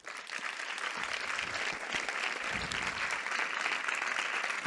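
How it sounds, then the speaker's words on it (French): Audience applause at a FIFDH 2024 forum in honour of a film's director, a dense, steady clapping that holds at even strength for the whole stretch with no voices over it. "je vais vous demander évidemment des applaudissements nourris pour la réalisatrice du film, Shannon Service, qui est avec nous."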